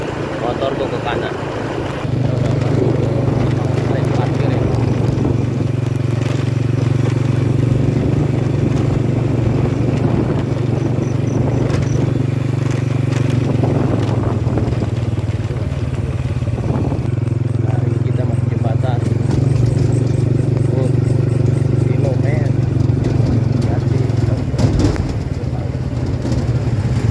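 A motorbike ridden alone at night on the road from Jakarta to Sawarna holds a steady low engine drone and road rumble for the whole stretch, with someone talking over it nearly throughout as he points out the route.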